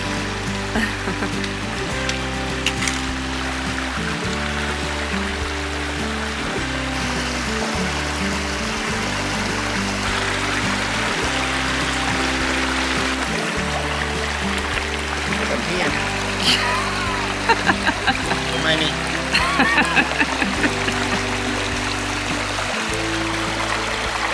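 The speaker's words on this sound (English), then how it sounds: "Smart water, fresh from a mountain stream." A steady rushing of a mountain stream fills the whole stretch, running nearby in a backcountry state park, with a low rhythmic thumping underneath throughout.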